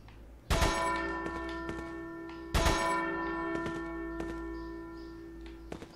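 Church bells in Resident Evil 4 toll twice with loud, resonant strikes, each ringing out in a long shimmering decay, followed by a few faint metallic taps.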